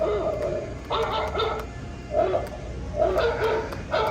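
A toy-like electronic bark from an animatronic two-headed Halloween dog repeats in short bursts, several yapping phrases in a row with small pauses, close and fairly clear.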